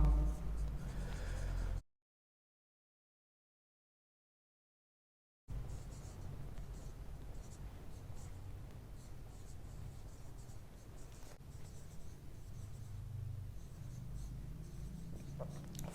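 Chalk or marker scratching across a classroom board as a physics equation is written, a steady close scraping texture that drops out for a few seconds of silence, then resumes, with occasional speech around it.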